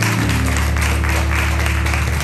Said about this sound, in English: So let's give them a hand of applause.